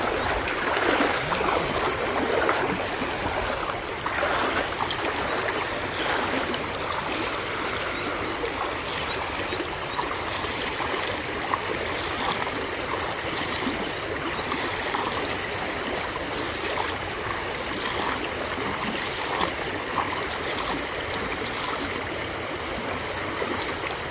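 Water pours from an overflowing village pond and runs off in a steady rushing stream, a dense continuous gurgling wash that stays loud and unbroken throughout with no voices.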